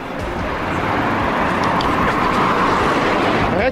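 A car that had just struck someone drives off, its steady road noise and engine rumble filling a few seconds of roadside sound without any talk over it.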